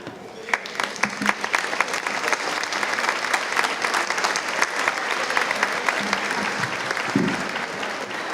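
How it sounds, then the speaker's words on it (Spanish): Sustained audience applause fills a community association gathering in Llutxent, a dense, steady wash of many hands clapping at close range, holding evenly for over eight seconds. "os voy a pedir otro aplauso"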